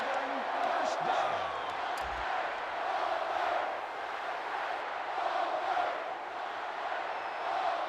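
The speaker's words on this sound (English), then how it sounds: "Crowd is chanting Auburn Tigers after that." Stadium crowd chanting in the college football video game NCAA Football 13, a loud sustained roar with rhythmic swells of chanting, a commentator's voice talking over it.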